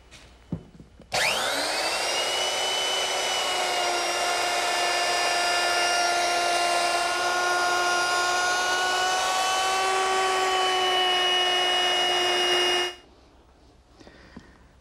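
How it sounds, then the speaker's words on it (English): A handheld power router rounds the top and bottom edges of a wooden desk top to a half-inch radius, a loud, steady high-pitched whine that starts abruptly, holds for about twelve seconds, then cuts off. "I want to round the edges, top and bottom, with a half inch radius."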